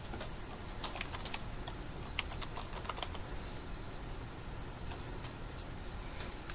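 Keys clatter in light, irregular clusters on a computer keyboard, fairly faint and close over a steady background hiss, with no talking.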